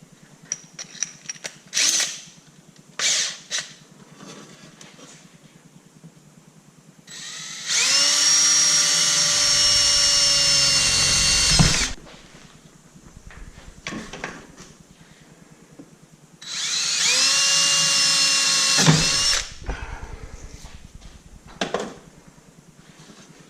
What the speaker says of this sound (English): From there, I'll take a 3/8 drill bit.